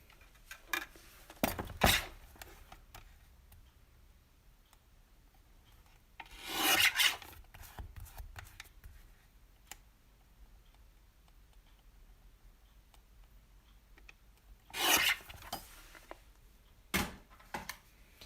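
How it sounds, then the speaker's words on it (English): Paper being trimmed down for a pocket letter during a crafting session, heard as four short rasping cuts or slices spaced apart with quiet pauses between, close and fairly crisp. "this needs to be trimmed down because it's too wide"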